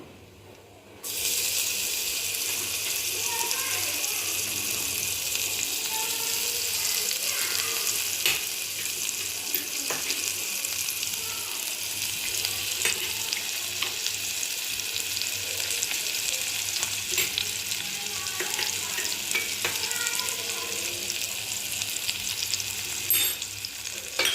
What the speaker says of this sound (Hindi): अब इसमें हम लहसुन अदरक वाला पेस्ट डालेंगे।